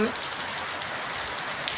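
Rain falls steadily on plants as a dense, even hiss of drops with no pauses, close and continuous.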